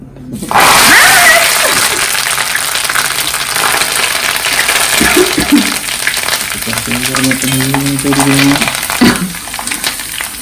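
Curry leaves splutter in hot oil while a Kerala-style spicy mixture is cooked at home, a sustained crackling sizzle running throughout with people talking over it.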